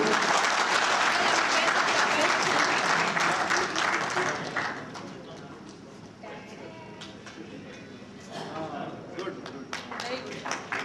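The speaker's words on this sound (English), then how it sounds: "A great round of applause for you." Audience applause for a birthday, loud broadband clapping at first that thins out midway, with voices talking over the quieter tail.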